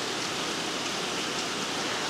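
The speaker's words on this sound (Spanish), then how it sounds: "nos tocó una lluvia nocturna con relámpago y toda la cosa." Night rain falls during a thunderstorm, a dense, even hiss of heavy rainfall with no breaks and no voices over it.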